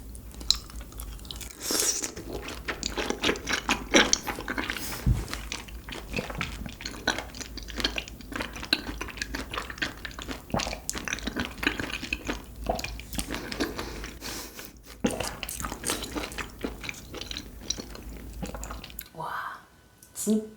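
Grilled Korean beef large intestine, served with onion and chili peppers, is chewed up close in steady, wet, squishy bites with crunchy moments, continuing for about twenty seconds before a short pause near the end.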